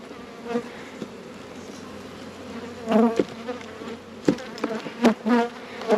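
Honeybees buzzing around a hive that swarmed, a steady close drone with louder swells as individual bees pass near, continuous and without talk.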